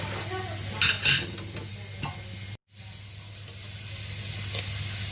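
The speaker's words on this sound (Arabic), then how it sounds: "كنستمروا في التحريك حتى كنلقاو عقاد" A spoon stirs a thickening lemon dessert mixture with a few pieces of chocolate in a pot over a continuous low hiss, with scraping strokes early on and a brief dropout midway.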